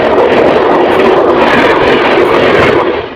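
Intercity Express train hauled by a WAP7 electric locomotive pulls out of Katihar Junction along a curve, a loud continuous rumble and rattle recorded from inside a general coach that fades slightly at the end.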